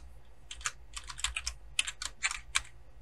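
An email address and password are typed on a computer keyboard as quick irregular bursts of light clicking keystrokes, close and fairly quiet, with no voices.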